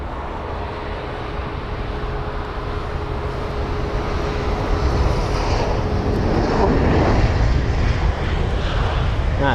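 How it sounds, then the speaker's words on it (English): An Air India Boeing 787 arriving at London Heathrow, its jet engine roar a broad steady rumble that swells slightly louder toward the end, with a faint steady tone running underneath. "And the Air India 787 as well."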